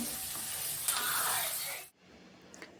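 Shallots tossed into hot oil for a Kerala duck roast, giving a loud bright sizzle that hisses for about two seconds, then drops sharply to a quieter bubbling fry.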